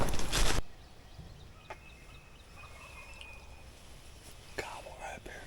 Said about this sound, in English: Gobble right there.